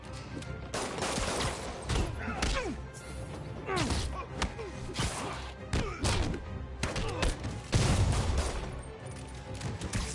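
Enemy gunfire in the Spider-Man PS4 video game, repeated loud bursts of rapid shots with thuds and crashes from the fight, continuous and close throughout.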